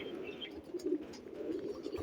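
Pigeon cooing in a handler's hands, soft low coos repeating through a steady murmur of nearby birds, moderately quiet with no talk.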